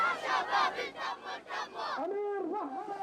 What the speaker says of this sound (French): Dans ces rues, la foule scande le nom d'Amir Moatassem Odeh